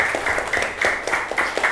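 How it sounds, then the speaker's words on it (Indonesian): A classroom of pupils claps together in a brief, rhythmic burst of quick, evenly spaced group claps, close and moderately loud, with no voices. "Tepuk tangan buat kita semua"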